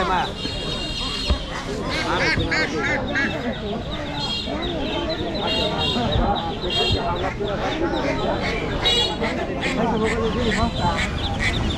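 Ten-day-old Chinese ducklings at a rural village poultry market in Bangladesh keep up a dense, continuous quacking and peeping close by, with market chatter and voices mixed throughout.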